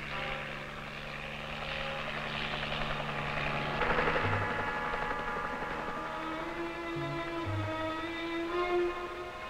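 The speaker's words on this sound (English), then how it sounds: "just in case the helicopter wasn't able to keep the mother at bay." A helicopter hovers nearby during a wildlife tagging operation in the Arctic, its steady rotor and engine drone continuous and moderately loud under sustained tonal hum.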